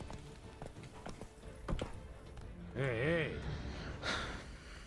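A horse in The Witcher 3 has rapid hoof clip-clops in a running rhythm, with a breathy snort and a whinny-like vocal sound midway, under some speech.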